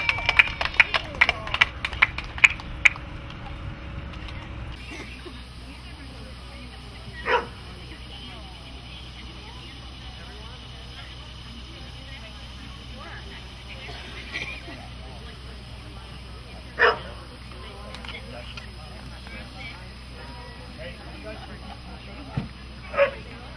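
A dog at an outdoor gathering gives a few yips and barks, first clustered then scattered and fairly distant, over a steady murmur of crowd noise.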